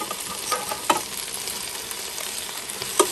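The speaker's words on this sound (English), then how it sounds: "We are now halfway, and we are going to flip our barbecue over." Marinated Filipino-style barbecue sizzles on a Ninja Foodi air grill, a steady hiss running throughout with a few sharp clicks and taps near the start and end, with no talking.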